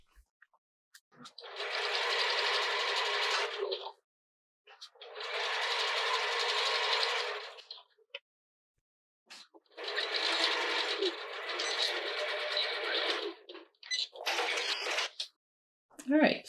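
A sewing machine runs in several steady, buzzing bursts of a few seconds each, separated by short pauses, as it back tacks and stitches a seam on stretch fabric, close and loud.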